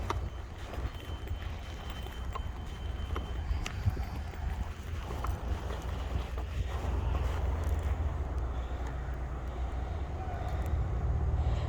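Wind buffeting the microphone on an outdoor walk, a steady low rumble that swells slightly in the second half, with faint footsteps and scattered small clicks, no talking.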